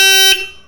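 A tuned motorcycle horn sounds in a short, loud, bright blast that cuts off and leaves a brief fading tail.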